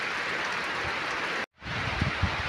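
Heavy rain falls on a rice field, a loud, continuous wash of downpour broken by a split-second dropout, then resuming with a few soft low knocks.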